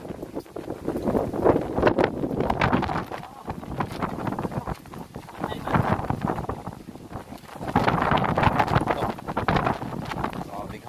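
Strong wind buffets the microphone in steady, roaring gusts, with rumbling rising and falling throughout, on the way from Dapitan to Sulangon.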